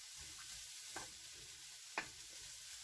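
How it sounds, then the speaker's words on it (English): Finely chopped chili is stirred into a hot pan, giving a continuous soft sizzle with a couple of brief scraping strokes from the stirring, quiet and close with no talking. "just chopping it up as fine as possible and then adding that into the pan as well, giving everything a really big stir"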